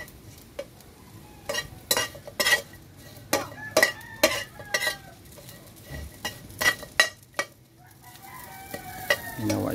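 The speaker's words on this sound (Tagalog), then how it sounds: "Ginawa itong prito, lagyan ng mantika upang mabilis ito maluto." Dry fish frying in oil in a pan, a soft steady sizzle broken by repeated sharp scrapes and clinks of a utensil stirring against the pan, close up with no talk.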